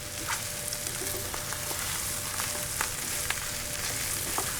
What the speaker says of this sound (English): I'm gonna drop our par-cooked rice into our onions, our jalapenos, our pepperoni,